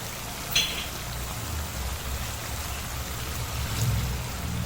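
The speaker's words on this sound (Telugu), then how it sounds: "ఇప్పుడు ఇందులో కొన్ని వాటర్ పోసుకుందాం." Water pouring into a pan of mushroom and egg curry gives a steady, rain-like liquid rush across the whole stretch. A few faint clinks sound close by, and no one talks.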